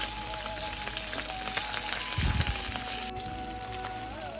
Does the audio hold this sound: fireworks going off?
no